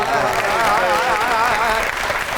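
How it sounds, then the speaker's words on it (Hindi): Loud, steady applause from a crowd with a wavering singing voice carrying over the top throughout. "कितनी सच्ची बात है, तालियां"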